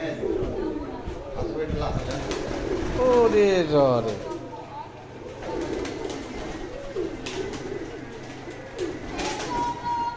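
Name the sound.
pigeons cooing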